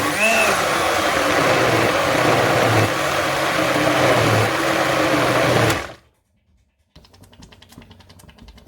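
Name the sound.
grinder jug blending cooked mustard greens saag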